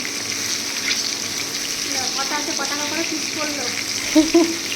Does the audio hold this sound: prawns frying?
yes